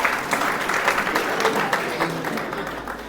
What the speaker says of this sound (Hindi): आप जोरदार तालियों से बच्चे की हौसला अफजाई करें